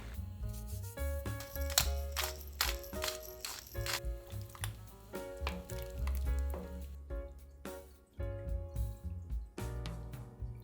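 A pot of blue zone bean soup with couscous, salt and pepper sizzles and bubbles steadily, with occasional clinks and stirring knocks close by and no talking.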